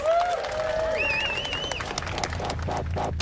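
A studio audience at a Robot Wars arena claps for the competing robot Jellyfish. A burst of applause builds under electronic whooping tones, then breaks into clear rhythmic claps near the end.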